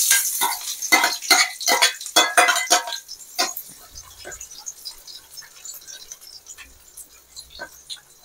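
Finely chopped onion tipped into a hot pan for onion masala, with a run of sharp clinks and scraping clatter for a few seconds, then a quieter, steady sizzling hiss.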